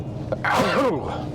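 A single sharp human sneeze bursts out close by inside a car, a brief intake followed by a loud explosive release, then quiet cabin hum.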